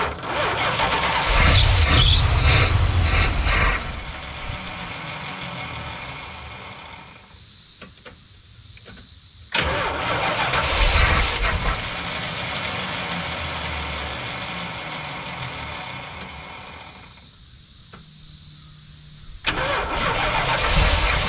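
A 1981-82 Dodge 1-ton farm truck engine cranks loudly in several long bursts separated by short pauses, catching and running between attempts, with no one talking.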